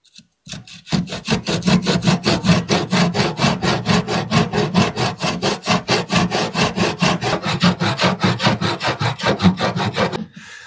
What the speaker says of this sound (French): finir de couper les bords